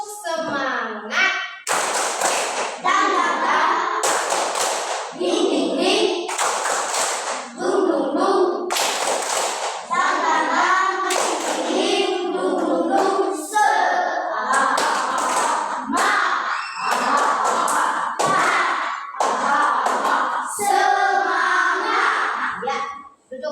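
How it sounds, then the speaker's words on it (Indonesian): A third-grade class stands and does a rhythmic spirit clap in a classroom, loud patterned bursts of hand claps and slaps in quick sequences, mixed with children's voices and an adult calling out between rounds. "Tepuk semangat."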